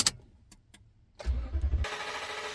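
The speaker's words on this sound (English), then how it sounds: "fire up the truck" A Toyota Tundra's 5.7L V8 truck engine cranks briefly and catches, settling into a loud, steady idle close by after a few faint clicks.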